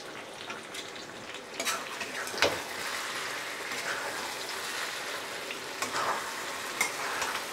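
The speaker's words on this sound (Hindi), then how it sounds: "बस एक बार मिक्स करके गैस का फ्लेम हम बंद कर देंगे।" Chicken curry with chopped coriander is stirred in a pan over a gas flame. A steady frying sizzle runs under intermittent scraping strokes of the spoon.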